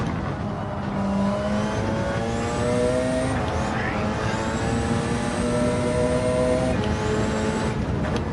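A Porsche race car engine in Gran Turismo 7, droning steadily at high revs with rising and falling pitch through gear changes, loud and continuous.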